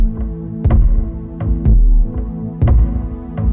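Two layered kick drums looped on an RC505 loopstation thump deep and loud in a steady, roughly one-per-second pattern, each hit sharp and booming over a low, sustained humming bed.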